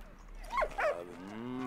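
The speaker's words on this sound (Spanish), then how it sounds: "¡Ach, un perro!" A dog in the World War I video game Valiant Hearts gives two quick barks at moderate distance, with low game ambience and a short tonal sound afterward.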